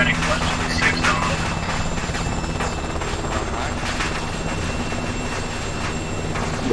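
A military helicopter in flight during a zombie-themed squad game: a loud, continuous rotor and engine drone fills the whole clip, steady and close with no breaks.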